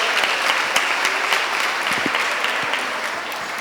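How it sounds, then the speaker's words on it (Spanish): Strong audience applause at a book presentation, a dense, even patter of many hands that holds steady for several seconds with no speech over it. "Un fuerte aplauso para todos ellos y cada uno de ustedes por acompañarnos."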